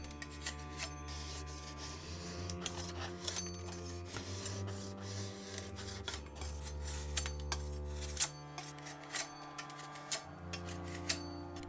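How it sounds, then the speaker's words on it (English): A kitchen knife shaves thin strips from a small wooden log in a steady run of close, scraping strokes, with no talk over them. "I took a little log and started working with the kitchen knife"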